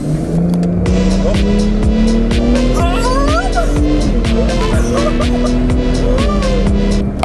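An expensive automatic car accelerates hard, its engine note rising steadily and loudly with revving and shifts over several seconds, heard from inside the cabin.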